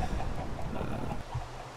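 Chickens in a pumpkin pie factory video game give soft low clucks and murmurs, a dense, muffled jumble of short calls at moderate distance, continuous for under two seconds.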